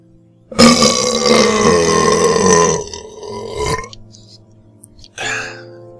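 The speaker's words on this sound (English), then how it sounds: "That's a Coke burp, that is." A long, loud burp after drinking Coke rumbles on for about three seconds, followed by a brief quieter sound a moment later.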